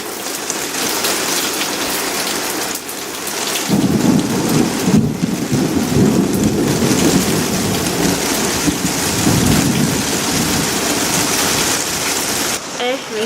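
A heavy summer thunderstorm pours steady, loud rain while deep thunder rolls and rumbles through most of the stretch, and a voice speaks briefly now and then.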